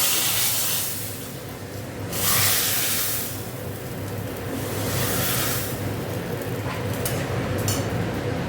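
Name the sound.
sizzling tempering poured into cooking lentil dal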